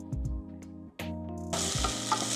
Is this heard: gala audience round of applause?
no